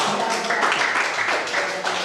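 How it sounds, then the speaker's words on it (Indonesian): Classroom applause from a group of students: a steady wash of clapping hands, fairly close and even, lasting the whole short stretch. "Oke, tepuk tangan ya."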